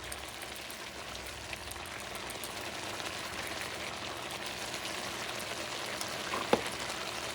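A Puerto Rican gandinga stew of pork liver, kidneys and heart, seasoned with salt and black pepper, sizzles and bubbles steadily in the pot, a dense even hiss with one brief clink near the end and no talk.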